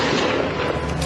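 Dense, rapid bursts of gunfire crackle continuously after car bombs at a busy intersection in Mogadishu, loud and sharp, with a booming rumble beneath.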